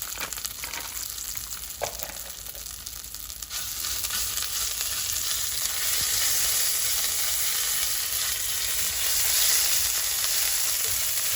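About two tablespoons of Panang curry paste fries in hot oil in a pan, giving a steady sizzle that grows louder and denser after a few seconds, with faint scrapes of stirring early on.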